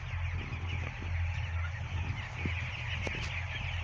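Broiler chicks in a poultry shed on day 17 of the flock, soft overlapping clucks and cheeps over a constant low fan-like hum, faint and steady throughout.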